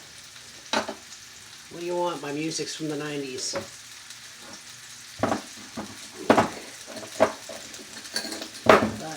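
Food frying in a hot pan in a home kitchen, a soft low sizzle beneath intermittent clatter of utensils and pans, with a person speaking briefly over it.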